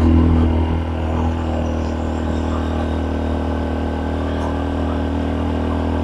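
A motorcycle engine labors at a steady, strained drone on a rough, landslide-damaged mountain road between Pamplona and Bayawan in Negros Oriental, loud and close with a constant rattly hum throughout.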